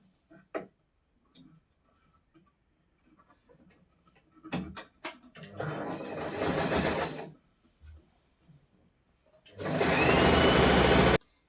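A sewing machine stitching a folded four-inch pant waistband, heard in two bursts of rapid close whirring with scattered clicks and handling sounds between.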